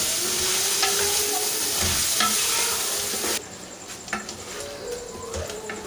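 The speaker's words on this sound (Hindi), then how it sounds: "यहाँ पे अदरक लहसुन को हम 5 मिनट के लिए भून लेते हैं" Ginger garlic paste and onions frying in a karahi with tomatoes, a steady loud sizzle with scraping stirs of a spoon, the sizzle dropping and quieting partway through as stirring continues.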